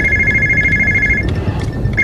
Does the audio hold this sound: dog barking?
no